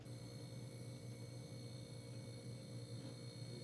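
Frostorm mini fridge running, heard up close as a steady low hum with a constant motor drone and faint high whine, unchanging throughout with no other sounds.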